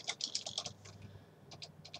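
Rapid keystrokes on a computer keyboard come in two bursts of crisp, close clicks with a short pause between them, and no one talks.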